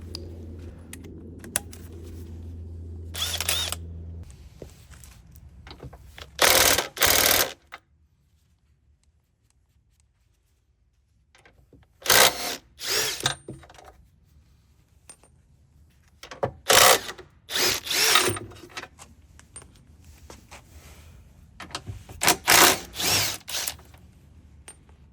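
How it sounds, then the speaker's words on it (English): An impact drill with a 19mm socket undoes the bolts on an Audi Q7 crash bar, sounding in several loud rattling bursts separated by quiet gaps. "Grab your 19mm socket for this one, and I'm going to use my impact drill."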